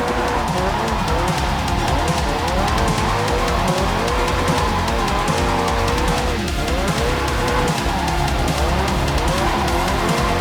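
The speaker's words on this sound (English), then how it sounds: "lose enough grip at the rear to go into a drift" A drift car in JDM: Japanese Drift Master slides sideways with loud, continuous tire squeal over a revving engine, the screech sustained and wavering throughout with no pauses.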